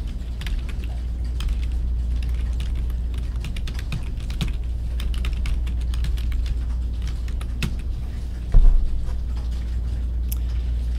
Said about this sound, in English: I'm going to type in quality care for pets and their families